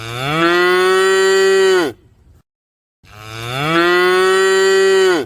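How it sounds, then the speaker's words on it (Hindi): Buffaloes low while eating fodder: two long, loud, close moos, each holding steady and then dropping away, with a short silence between them. "चारा खाते हुए अचानक भैंसों ने आवाज निकाली।"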